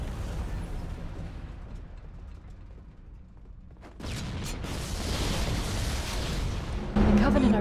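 Explosions in the video game Halo CE Anniversary, on the Pillar of Autumn ship: a rumble that swells into a loud, sustained roar of blasts and debris, heavier near the end, with some speech mixed in.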